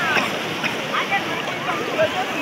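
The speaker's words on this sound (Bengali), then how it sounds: "জোর জোরে ঢেউ আসছে" Sea waves break on the beach at Puri in a continuous churning wash with gusts of wind across the microphone and voices faintly beneath the surf.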